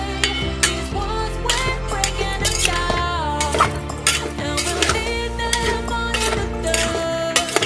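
Pechay and tofu are stirred in a pan, with a utensil scraping and clinking against the metal in quick repeated strokes under a faint sizzle, close and fairly loud.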